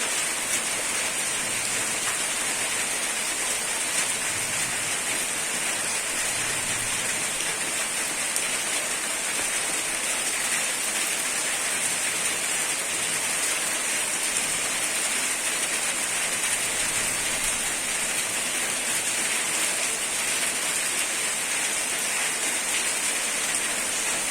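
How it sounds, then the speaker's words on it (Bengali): Steady, dense hiss of heavy monsoon rain pouring down without a break, a broad constant wash of water with no voices. "ওই যে হাই হাই করে বৃষ্টি হচ্ছে"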